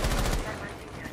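Gunfire in Rainbow Six Siege, a short burst of rapid loud shots at the start that quickly trails off into reverberant noise.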